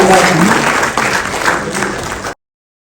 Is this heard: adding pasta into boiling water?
no